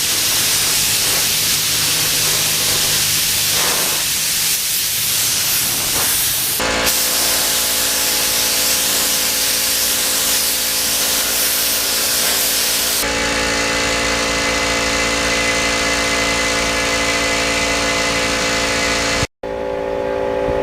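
A spray gun lays clear coat onto carbon fiber motorcycle parts during a Ninja restoration. A loud, continuous close-up hiss runs almost the whole way, with slight changes in tone and a short cutoff near the end.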